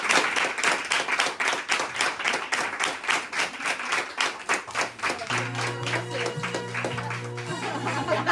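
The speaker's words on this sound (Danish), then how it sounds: "Så skal vi ikke bare give et stort bifald og et varmt tak." Warm audience applause follows a talk's closing thanks, starting with dense, steady clapping that thins out midway as a sustained low musical tone comes in underneath.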